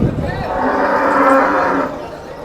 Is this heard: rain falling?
no